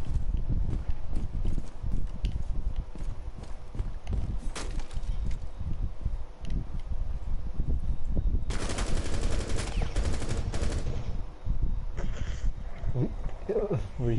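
Rapid bursts of gunshots in a game, dense, loud and fairly close, with heavier sustained firing partway through, and voices talking over the noise.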